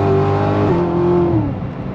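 A sports car accelerates hard on a wet road, its loud, steady engine note climbing, shifting once, then easing off after about a second and a half, with no talking.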